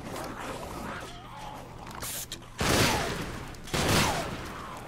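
A powerful weapon fires in Sunset Overdrive, two loud blasting bursts standing out after a quieter stretch of game noise, the first longer and the second shorter.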